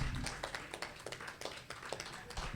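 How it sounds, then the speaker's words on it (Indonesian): Audience at a church sermon clapping on cue, a loose scattering of individual claps over a low rumble of room noise, faint and somewhat distant. "Tepuk tangan dulu Bapak Ibu Saudara."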